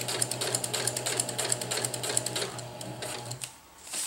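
A sewing machine fitted with a walking foot stitches a tarp ridgeline seam, a steady rapid mechanical whir with rhythmic needle clatter running loud and close for several seconds before easing off near the end.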